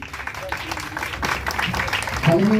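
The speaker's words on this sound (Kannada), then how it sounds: "ಜೋರಾದ ಚಪ್ಪಾಳೆ ಬರಲಿ" Applause from an audience at a teachers' and engineers' day celebration, a loose patter of clapping that builds toward the end while people talk over it.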